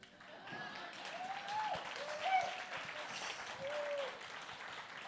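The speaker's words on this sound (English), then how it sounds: "Keep clapping." Audience applause at a stage talk, steady crowd clapping throughout at moderate level, with faint voices mixed in.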